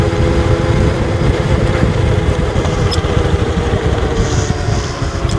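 A three-wheeled electric bike capable of about 70 km/h rides at speed, giving a steady, loud drone of motor whine and rushing road and wind noise with no pauses.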